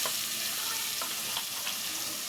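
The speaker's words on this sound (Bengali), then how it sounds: "মশলাটা কষায় তারপর লাউটা দিয়ে দিব" Spice paste frying in a pan ahead of bottle gourd going in, a steady bright sizzle with a few soft stirring scrapes, close and continuous without speech.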